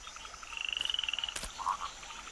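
A purple pig-nosed frog in India gives a quick rattling run of croaks, then a short, sharp knock and a couple of softer calls, fairly faint against a quiet background.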